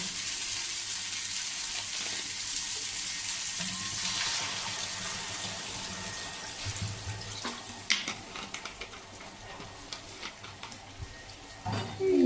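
Water poured into a pan of sautéed pointed gourd and potatoes: a steady pouring hiss over sizzling, easing into bubbling and scattered clinks and stirring knocks toward the end, with no voices.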